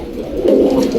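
A KTM Teddy pigeon pair gives a short, low, throaty coo, close and fairly loud, with no talking.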